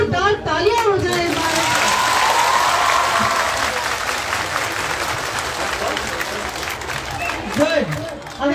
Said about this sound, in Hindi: अगर जोरदार तालियां हो जाए